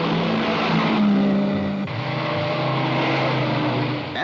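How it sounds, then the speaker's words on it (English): 1950s Mercedes racing cars roar past during a long-distance road race, loud engine noise sweeping by in one continuous blast that shifts pitch partway through, with no voices over it. "And here comes Moss well out in front with the leaders."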